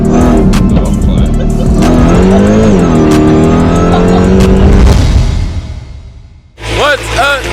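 A 1000-horsepower Dodge Hellcat engine revving loud and close, a sustained rising and falling roar that cuts off abruptly near the end, followed by a brief burst of another rev.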